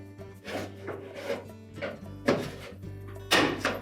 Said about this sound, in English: take your putty knife and go into that gap between the cover and the control panel.